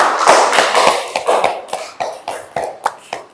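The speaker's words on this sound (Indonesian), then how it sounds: "Tepuk tangan untuk kelompok" A classroom of students claps for a student discussion group, irregular close hand claps that thin out into a few scattered, separate claps.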